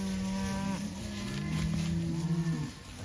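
A herd of fat, slick cow/calf pairs and bulls moos repeatedly on an outdoor cattle drive after heavy rain, with several long, overlapping low calls close by and no voices.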